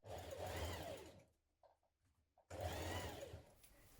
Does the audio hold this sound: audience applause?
no